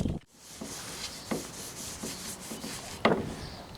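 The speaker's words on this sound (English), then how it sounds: "I'm going to sand across the grain." Sandpaper rubs across the grain of a wooden part for a model 0-4-4-0 locomotive, heard as close, dry scratchy strokes in an uneven rhythm, with a few sharper scrapes standing out.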